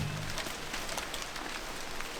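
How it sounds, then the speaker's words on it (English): Steady wet patter of rain falling outdoors on a cold, rainy day, a soft, even hiss of drops with no voices. "I think it's nice even when it's rainy like this."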